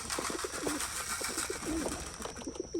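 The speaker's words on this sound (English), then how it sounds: "we have 6 pigeons in the carrier right now" Soft, low coos from six pigeons inside a carrier repeat several times close by, over a faint background hum.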